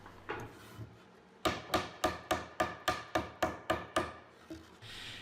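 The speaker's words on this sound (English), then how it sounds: "It was a little bit too tight for me to hammer it home." Ten sharp hammer blows drive a tight half-blind dovetail joint in plywood drawer parts, in a steady, evenly spaced rhythm, loud and close, with quieter tapping and shuffling before and a soft rasp after.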